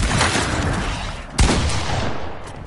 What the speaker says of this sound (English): I'm gonna headshot snipe him